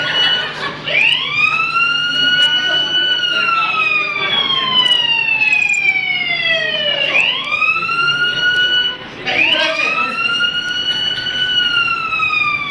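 An ambulance siren wails loudly and close by, sweeping up and down in long rising-and-falling cycles, with faint background noise and no clear speech.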